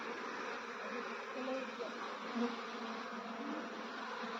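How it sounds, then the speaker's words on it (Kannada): Honeybees drone steadily around wooden hive boxes on a bee farm, a dense continuous buzz of many insects held at close range with no gaps. "ಜೇನುಹುಳವ ನೋಡಿ"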